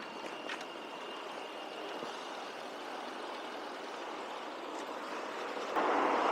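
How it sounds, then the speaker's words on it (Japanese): A steady broadband roar of passing traffic on a busy road, with a vehicle growing louder near the end. "ここからはですね、車通りのかなり多い道に出てきました"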